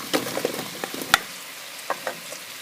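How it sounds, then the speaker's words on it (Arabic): Chopped onion and zucchini sautéing in a pan for a healthy spinach soup, a soft steady sizzle broken by a few clicks and scrapes of stirring, close up and without speech. "البصله ديالنا من بعد ما تشحرات شويه كنضيف ليها القرعه الخضراء او الكورجيت"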